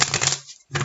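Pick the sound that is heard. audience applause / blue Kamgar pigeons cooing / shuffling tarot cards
shuffling tarot cards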